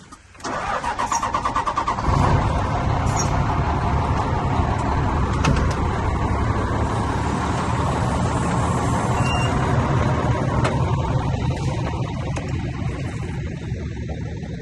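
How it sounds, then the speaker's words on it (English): A truck's engine cranks and catches, then settles into a loud, steady diesel idle while it builds air pressure, a rumbling drone that continues to the end. "I'm going to start up this truck, let it build air, so I can drive off."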